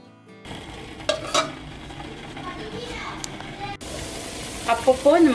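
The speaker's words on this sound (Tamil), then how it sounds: "அப்பப்போ இந்த மாதிரி எடுத்து கிண்டி விடுங்க" Rasagulla balls simmer in sugar syrup in a pan, with soft bubbling, a gentle sizzle and intermittent stirring scrapes heard close by while a voice talks over it.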